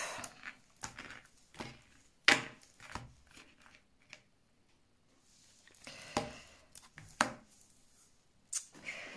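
A tarot card deck being cut and shuffled by hand, with a run of crisp card flicks and soft slaps in irregular bursts, close and fairly quiet, separated by short pauses.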